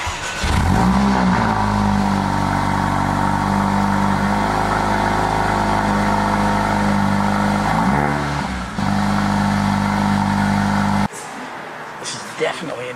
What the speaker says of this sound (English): when you actually turn the engine and start it up, it really does make a nice sound